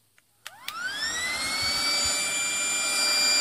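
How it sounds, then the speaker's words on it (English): A U.S. LWPAPR pusher fan blower for an M45 mask powering on: a couple of faint clicks, then a whine that ramps up in pitch and settles into a steady, moderately loud airy hum. "having one blower plugged in, I will power it on."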